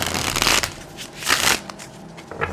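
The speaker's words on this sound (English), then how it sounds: "one more shuffle" Cards are shuffled in quick riffling bursts, a close crisp fluttering that comes in several waves with short pauses between.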